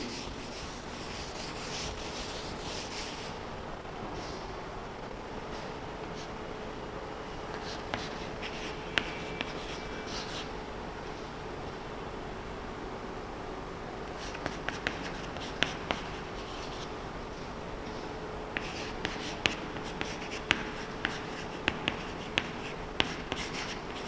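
Teacher writing notes for a history class, a long run of close scratchy pen or chalk strokes in short bursts with occasional taps and brief pauses, no speech over it.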